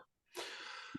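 A single human sneeze, a short intake followed by a sharp, breathy burst that holds for about half a second, close and fairly quiet.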